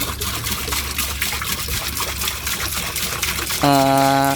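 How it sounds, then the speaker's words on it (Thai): Fermented EM liquid pours into a 200-litre tank as a steady trickling, splashing stream, joined near the end by a loud tonal hum, likely a pump, with no talk. "EM ที่เราหมักเอาไว้นะครับ เราก็ใส่ลงไปในถัง 200 ลิตร"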